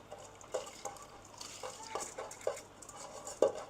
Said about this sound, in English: once you add the rice, you give it a quick stir